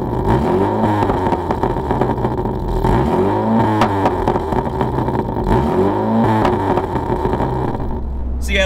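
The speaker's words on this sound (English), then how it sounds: "This Remus exhaust really does sound nice." A Mini fitted with a Remus exhaust idles loudly up close and is revved repeatedly while stationary, each blip rising and falling with throaty burble.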